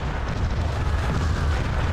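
Multi-barrel cannons firing in the video game Cossacks: Back to War, a dense continuous roar of booming blasts and rumble from a massive battle, loud and unbroken, without talk.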